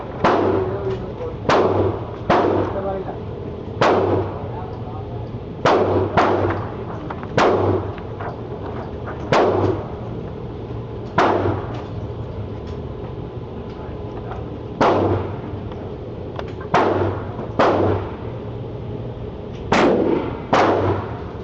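Smith and Wesson SD9 VE 9mm pistol fired at targets outdoors, about sixteen sharp, loud shots in irregular groups with pauses between, over a low steady background hum.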